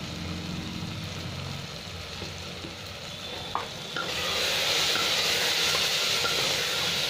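Turmeric and Kashmiri chili powder fry in hot oil for a pulao with chana dal, giving a steady close sizzle and hiss that swells louder and brighter partway through, with no voices.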